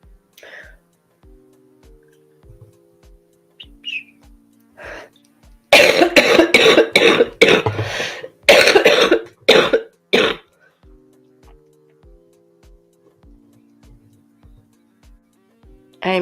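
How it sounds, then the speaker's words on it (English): A run of harsh, loud coughs in quick bursts, close up, with quiet periods and faint background tones before and after. "I am so sorry for the coughing."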